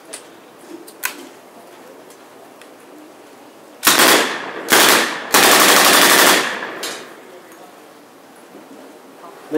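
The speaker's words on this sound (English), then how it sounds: "Ladies and gentlemen, Thompson submachine gun." A Thompson submachine gun fires at a WW2 reenactment in Fredericksburg, Texas: three loud bursts of rapid automatic fire, the last one longest, each cracking sharply above a quiet outdoor background.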